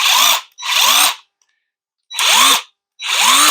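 A Ryobi 18V half-inch impact wrench on a 1.5 Ah battery runs in four short bursts, each a loud, close whirring spin that winds up and down, separated by brief silences.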